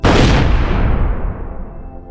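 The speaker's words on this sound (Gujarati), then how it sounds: "તેમણે પંચાળા આવીને એકસાથે 100 બંદૂકોના અવાજ કર્યા" A massed volley of about a hundred guns fired at once by a band of horsemen arriving at Panchala, heard as one loud, dense blast whose rumbling reverberation decays over about two seconds, with no voices.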